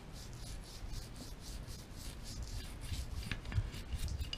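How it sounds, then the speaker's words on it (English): Steady scrubbing of a brush against a Taurus 1911 pistol slide, close and continuous, with quick repeated strokes. "Then I'll come in here with a brush"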